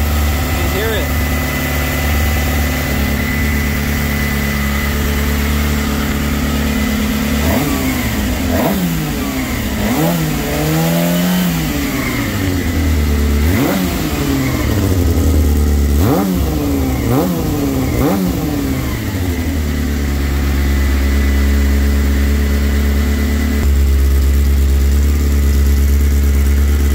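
A Suzuki GSXR600 motorcycle engine running with its cooling fan switched on, a steady idle hum with several quick rising and falling revs in the middle, loud and close throughout.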